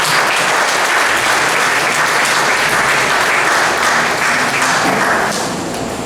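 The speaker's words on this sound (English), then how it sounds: "Please give him a round of applause." Sustained, dense audience applause at a symposium, loud and steady for several seconds with no pauses, easing slightly at the very end.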